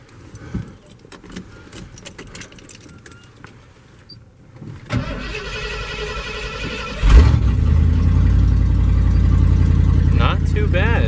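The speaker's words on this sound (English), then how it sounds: "Definitely a cold start if I've ever heard one." A carbureted 1980s truck is cold-started: keys jangle and the starter cranks before the engine catches and settles into a loud, steady rough idle close by, with someone speaking early on.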